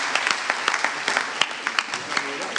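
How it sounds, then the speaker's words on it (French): A conference audience at a French-language closing session applauds a man named Sébastien: a moderate, fairly distant patter of many hands clapping with scattered sharper claps, steady for a couple of seconds. "Sébastien, on l'applaudit."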